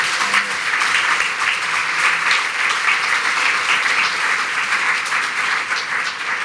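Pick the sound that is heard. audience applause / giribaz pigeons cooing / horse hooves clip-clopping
audience applause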